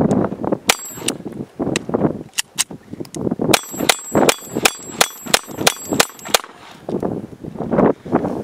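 Rapid series of sharp .22 Long Rifle shots from a Ruger 2245 Lite pistol, each crack followed by a bright ringing clang off an MGM steel auto-reset popper target, about a dozen strikes in quick irregular rhythm, loud and close.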